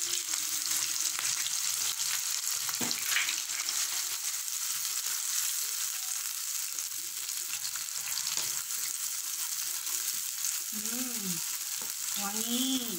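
Egg frying in a pan, a steady bright sizzle running throughout with a few soft clicks, close and fairly loud, with no talking.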